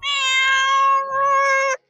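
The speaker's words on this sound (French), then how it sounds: "Dans le cas d'une douleur intense, le chat aura un miaulement long et très perçant" A cat gives one long, piercing, strained meow of the kind made in intense pain, loud and close with a brief dip midway, sounding alone for nearly two seconds before stopping abruptly.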